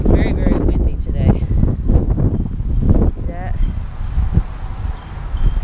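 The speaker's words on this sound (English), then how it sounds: "it's very, very windy today." Strong outdoor wind rushes and buffets the microphone on a very windy day along country roads, loud and steady, with a person talking over it.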